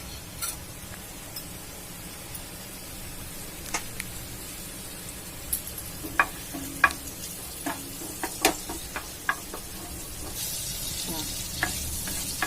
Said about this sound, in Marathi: जिरं टाकायचं अगोदर फोडणीला